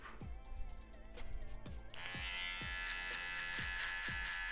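Electric finishing clipper trimming a haircut, its steady buzz running throughout, loud and close, with a brighter, louder hum from about two seconds on as the blades meet hair, plus soft periodic ticks beneath.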